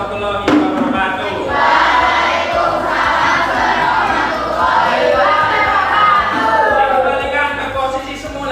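A crowd at a school teachers' program in Semarang, Indonesia, gives steady, loud applause mixed with cheering and shouts that carry on without a break for several seconds.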